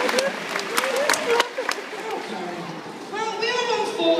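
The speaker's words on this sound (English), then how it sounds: "give him a big round of applause" Scattered audience clapping at an afternoon sea lion show, fairly light and uneven, fading as a presenter begins speaking over a public-address system for the last second.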